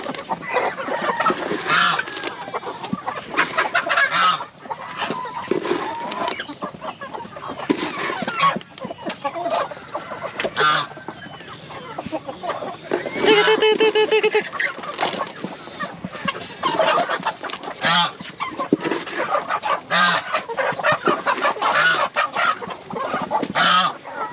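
Free-range mother hens cluck steadily close by in a coop area, with overlapping soft clucks and occasional sharper calls continuing throughout, mixed with faint farmyard rustling.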